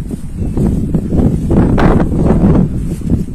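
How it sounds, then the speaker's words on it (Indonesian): Strong wind on the Bambangan trail up Mount Slamet buffets the microphone in a loud, low, continuous roar with gusty swells, alone with no talking. "Anginnya lumayan kencang"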